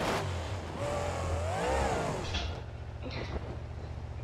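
Monster truck engine in BeamNG.drive, a Son Uva Digger roaring and revving with rising and falling pitch throughout, loud and continuous, steadying into a droning idle-like growl toward the end.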